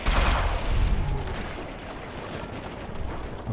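Dense, continuous gunfire from gunner enemies in Fallout 4 rattles throughout, a loud barrage of overlapping shots with heavy low-end booms, strongest early and holding steady as a busy firefight.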